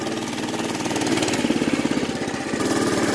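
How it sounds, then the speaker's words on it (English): The engine of a newly built ride idles close by with a steady, rough mechanical chug that swells slightly and pulses rhythmically, loud and alone. "We're just gonna let it idle here real quick."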